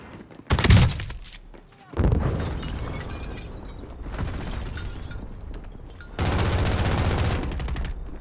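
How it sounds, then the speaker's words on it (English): Shotgun blasts in the online shooter Call of Duty: Warzone, on Rebirth Island, come as several loud, booming bursts spread over a few seconds. A heavy sustained barrage closes the clip, with players talking in between. "he shotgunned me in the face"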